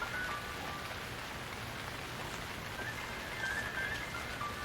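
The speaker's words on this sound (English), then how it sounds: "It's raining, as you can tell." Steady rain falls continuously outside, a dense even patter on surfaces by a yard and driveway, with a few faint high tones drifting in now and then.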